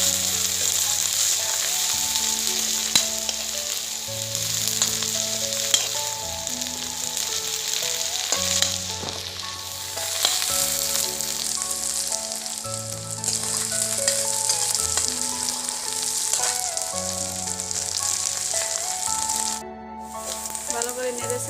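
Buffalo meat frying with ginger, garlic and onion in a pan gives a steady, bright sizzle and crackle, with occasional stirring scrapes, over a continuous soft musical backing for the whole stretch.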